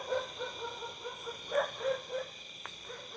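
A dog barks repeatedly at night near a tree by an old colonial-era railway tunnel, the barks faint and distant in a steady rhythm over a quiet background.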